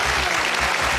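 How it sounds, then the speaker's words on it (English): Studio audience applause on the British game show Who Wants to Be a Millionaire, a brief, dense burst of clapping from a crowd, loud and close, with no talking over it. "I clapped myself."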